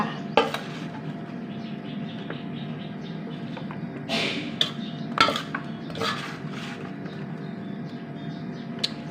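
Thai breakfast of bitter mushroom salad and fried chicken being scooped onto a plate, with close clinks of cutlery against dishes and scraping over a steady kitchen background, no talking.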